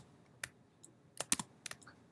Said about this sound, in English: I keep tapping on the spacebar